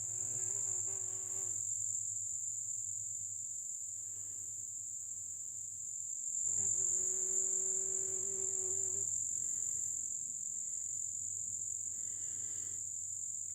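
Outdoors, a buzzing insect drones in near bursts with rising and falling harmonic whine, passing close at times over a constant high cricket chirr and low background hum.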